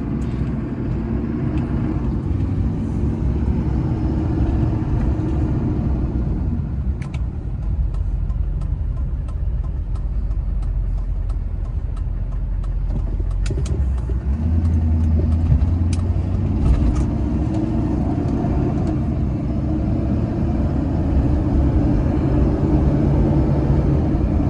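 A 2004 GMC Sierra 2500HD pickup with the 6.6L diesel, heard from the cabin as it works up through its gears: a deep, steady engine rumble and road noise that dips and rebuilds with each shift.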